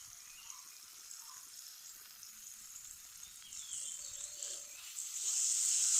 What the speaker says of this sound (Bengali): এবার খুব হালকা হাতে মাছগুলোকে নেড়ে চেড়ে 5 মিনিটের মতো কষিয়ে নেব